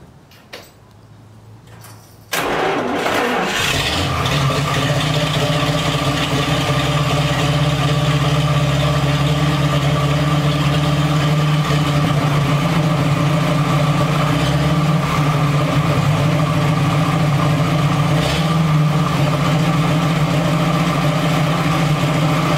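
A 1939 Buick engine cranks briefly, catches and settles into a loud, steady idle with a low rhythmic rumble that continues unbroken for the rest of the stretch.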